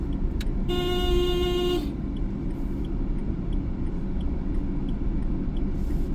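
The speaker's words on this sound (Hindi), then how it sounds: "हॉर्न।" A car horn honks once for about a second over a constant rumble of engine and road noise, with a faint short toot just before.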